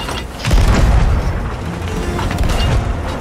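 A cannon booms in the pirate game Sea of Thieves, a loud close blast with a deep low rumble that lingers and fades over a few seconds.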